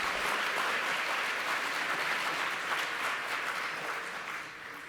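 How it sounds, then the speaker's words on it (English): An audience at a Business Women of the Year awards event applauds the sponsors, a dense steady wash of many hands clapping that holds for several seconds and then begins to fade. "Let's give them a round of applause."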